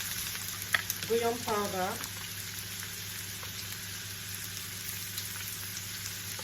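Beef and cabbage meat pie filling frying on low heat makes a soft, steady sizzle throughout, briefly interrupted early on by a short spoken phrase.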